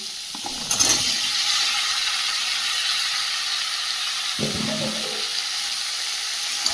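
Crab frying in a pan with pumpkin, Malabar spinach and okra, a steady close hiss of sizzling oil running throughout, with brief clatters of stirring near the start and again toward the end.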